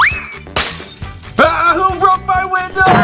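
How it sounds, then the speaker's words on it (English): A loud crash of breaking glass bursts out with bright shattering, followed by scattered tinkling and other clattering sounds, with music-like tones around it. "Who broke my window?"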